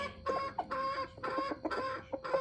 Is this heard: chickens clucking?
yes